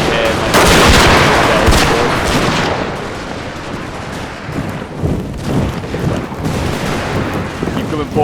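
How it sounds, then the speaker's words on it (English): Artillery and massed gunfire in an American Civil War Total War battle, a loud dense barrage of booms and crackling shots rolling continuously, with battle noise filling the whole clip. "Look at like the artillery here."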